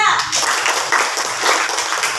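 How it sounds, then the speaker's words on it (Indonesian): Schoolchildren in a classroom clap for the presenting groups, a dense, steady patter of many small hands filling the whole moment, with voices mixed in underneath. "tepuk tangan untuk kelompok 1 sampai kelompok 5"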